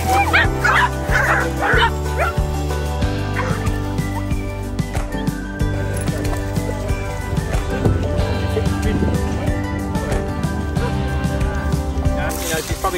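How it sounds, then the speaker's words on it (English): A group of farm dogs barks, yips and whimpers together in a steady, busy chorus with mixed voices, while people talk underneath throughout. "you've probably never seen a group of dogs like this before where there is no tension"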